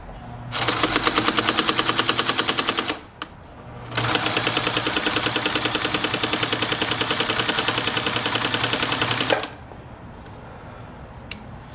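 A Kenmore sewing machine with its cover removed runs in two long bursts of fast, even mechanical clatter from the needle-bar lifter, close and loud, with a short pause between the bursts and a few stray clicks once it stops.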